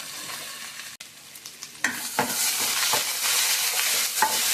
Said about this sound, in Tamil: கொஞ்சம் லைட்டாக கோல்டன் ப்ரௌன் ஆகிற வரைக்கும் நல்லா வதக்கிக்கோங்க.